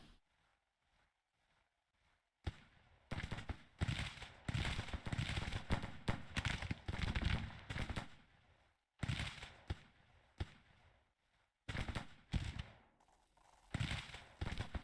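Musket volleys from a Civil War battle in Grand Tactician crackle in dense bursts, loud and sustained, with rapid popping gunfire and short pauses between waves of shots, no voices.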